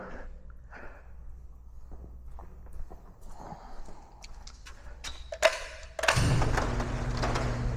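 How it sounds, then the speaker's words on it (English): An aircraft hangar door is hauled open, with scattered clanks and thumps from its mechanism, then a loud, steady rumble of the door rolling along its track close by at the end. "Let's get the hanger open."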